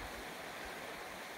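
A mountain river near Lake Hessie flows in a continuous, even broadband rush, faint and steady with no other sounds or voices.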